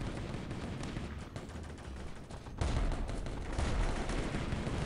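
Rapid bursts of gunfire in a military video game, dense rattling shots layered over one another, growing louder and heavier in the second half, with no talking.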